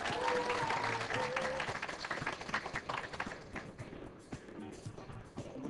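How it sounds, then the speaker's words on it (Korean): A congregation-style audience applauds in a lecture hall, dense clapping loud at first and thinning out over several seconds. "주님께 박수"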